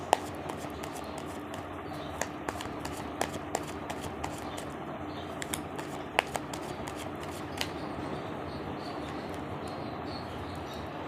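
Tarot cards are shuffled by hand in a quiet room, a soft continuous riffling rustle dotted with light taps and flicks, close and low in level.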